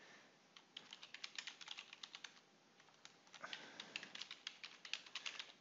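A stage name is typed on a computer keyboard, a steady run of crisp, close key taps in quick rhythm over faint room hiss, with no voices.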